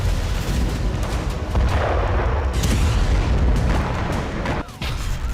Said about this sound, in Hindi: इजरायली वायुसेना ने गाजा के बेत लाहिया पर बमबारी की।